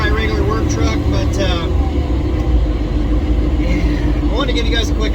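A loud, rumbling military M1097 Humvee engine runs steadily, close up, with a rough low drone throughout and a faint voice barely audible beneath it.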